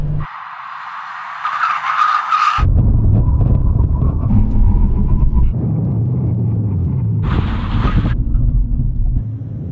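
Skoda vRS cars braking hard on a drag strip, a loud engine roar giving way to a long tire skid and rumble, with a second sharp burst of squeal near the end.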